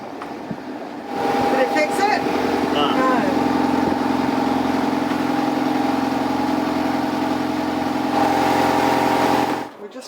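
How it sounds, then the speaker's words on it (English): A sailboat's engine turns over and settles into a steady mid-pitched idling drone with a constant hum, close and fairly loud, with people talking over it, before cutting off abruptly. "tried to start the engine."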